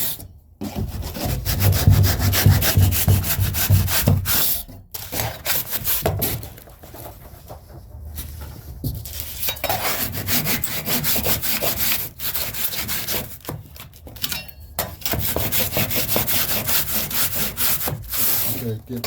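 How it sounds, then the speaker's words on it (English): Bottom edge of a foam camper shell on a trailer deck being trimmed, with steady rasping, sawing strokes close up that pause briefly now and then. "And now I'm just trimming around the bottom edge."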